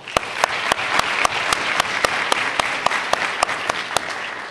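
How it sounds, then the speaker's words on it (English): An audience at a statewide infant mortality summit claps in a sustained round of applause, with sharp individual claps standing out close by over the steady wash of the crowd. "So if you join me in another round of applause."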